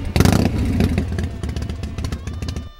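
A 1999 Harley-Davidson Heritage Softail Custom with custom exhaust pipes idles close by, a loud, lumpy, uneven potato-potato thump after a sharp opening blip of throttle.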